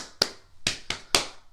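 Body percussion alternating hand claps and pats, four sharp, bright strikes in a quick uneven rhythm, close and clear with nothing else behind them.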